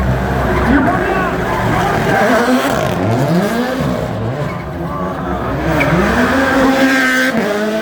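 Sébastien Ogier drifts a rally car, its engine wailing and swooping in pitch with tire squeal mixed in, loud and close, while people talk over it.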